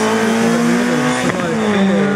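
A loud Peugeot 106 Rallye production rally car roars continuously at high revs climbing a hill at the Turckheim-Trois Epis hill climb, with a brief gear-change dip midway, close by and dominating the scene.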